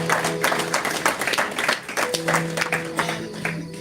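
A church congregation applauding, with a steady patter of many hands clapping together and a sustained tone and voices running underneath.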